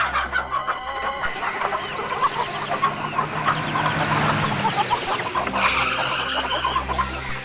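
Chickens cluck and chatter continuously at a poultry farm, a dense, busy flock sound that stays fairly loud throughout, with no voices.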